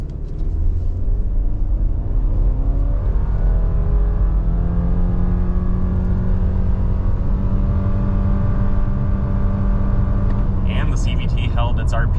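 A 2023 Subaru Forester Touring with a CVT accelerates hard from a stop in a 0-60 run, its engine droning loud and steady with a rising whine held near constant revs inside the cabin.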